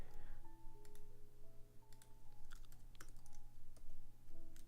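Quick, light keystrokes patter on a computer keyboard in short irregular bursts, fairly faint over a low steady electrical hum, with no talking.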